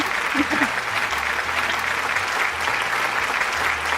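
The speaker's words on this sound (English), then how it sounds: "can we just give her a round of applause?" Steady round of applause for a podcast guest, a continuous wash of clapping at close range with a faint low hum underneath.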